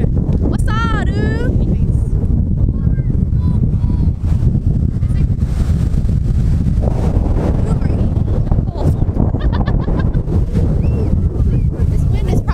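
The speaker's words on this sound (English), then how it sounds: "This wind is probably horrible on this camera." Strong beach wind buffeting a camera microphone, a loud, constant low rumble and roar across the whole stretch, with voices talking faintly underneath.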